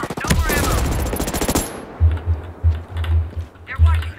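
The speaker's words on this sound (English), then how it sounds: "I hear gunfire." Gunfire in the video game Ghost Recon Breakpoint: a dense rapid burst of automatic fire at the start, then a series of heavy, spaced low thuds, with typing-like clicks.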